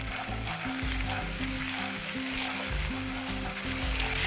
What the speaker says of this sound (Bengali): এরপরেও মশলাটাকে 30 সেকেন্ডের জন্য কষিয়ে নিয়েছি